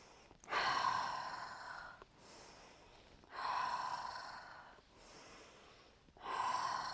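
A person breathes out slowly and audibly during a guided somatic wind-down exercise, three long airy exhales in a row with quieter pauses between, close and soft.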